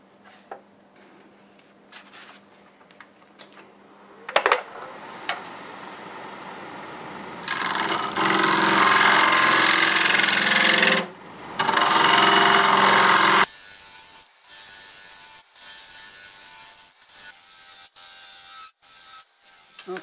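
A metal scraper cutting olive wood spinning on a lathe, a steady loud rasping hiss in two long passes with a short break between, framed by quiet clicks and taps before and after.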